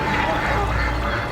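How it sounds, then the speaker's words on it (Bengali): Ducks quack loudly and harshly in a continuous, dense clamour, used as a horror story sound effect, with a low rumbling background throughout. "হাঁসগুলো বিকট স্বরে চেঁচামেচি করতে শুরু করেছে।"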